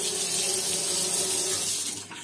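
Hot water runs steadily from a tap in the bathroom of a rental house, a continuous close splashing rush that fades slightly at the end, with no voices.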